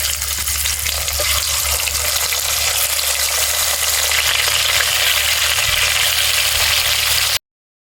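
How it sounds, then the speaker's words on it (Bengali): Loud, continuous sizzling and crackling of shol (snakehead) fish frying in hot oil, close up and steady until it cuts off abruptly near the end. "বাকি মাছগুলো ভেজে নেব।"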